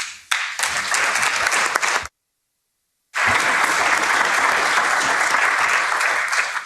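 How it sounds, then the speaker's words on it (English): Sustained applause from a sizable conference audience for speakers, steady and fairly loud, cut by a sudden second of silence before the clapping resumes just as dense and even. "Really appreciate if you give a round of applause for Petro, for Isabel, Vanessa, and for Vesn"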